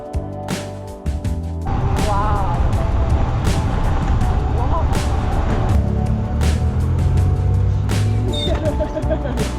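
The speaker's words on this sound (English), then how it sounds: "Look at all the cars going down." Cars and other vehicles driving down the Alpe d'Huez mountain road, a continuous rumbling traffic noise with sharp repeated clicks and knocks through it, while a person talks over it.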